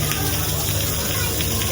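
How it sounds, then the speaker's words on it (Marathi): A small waterfall at Hadshi temple near Pune gives a loud, steady rushing gush that fills the whole moment, with faint voices mixed underneath. "इथे छोटासा धबधबा."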